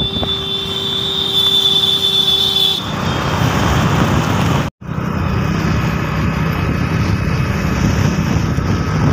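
A vehicle travelling by road through Asansol, heard as a steady loud rumble of road and traffic noise with a faint high whine early on and a brief dropout midway.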